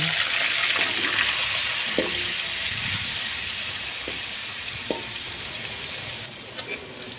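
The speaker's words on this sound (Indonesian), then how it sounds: "goreng tahunya" Tofu sizzles steadily in oil in a pan, a bright crackling hiss with a few soft knocks and clicks scattered through it.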